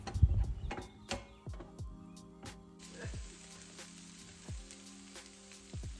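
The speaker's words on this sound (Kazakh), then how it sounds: "Қызып тұрған табаға кішкене мөлшерде сұйық құйып, оның үстіне біздің сосискиларды 2 минуттай қуырып алатын боламыз." Steady sizzle of sausages frying in a little liquid in a hot pan, with a series of sharp taps and knocks from utensils scattered throughout.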